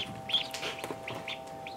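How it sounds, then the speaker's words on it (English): Ducklings and chicks kept indoors in a basement brooder give short, high peeps and chirps in scattered bursts, fairly close and moderately loud over a faint steady hum, with no talking. "let's go check on the ducklings"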